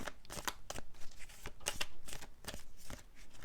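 Tarot cards being shuffled by hand, a soft, quick riffling and flicking that repeats steadily throughout, faint and close with no talking.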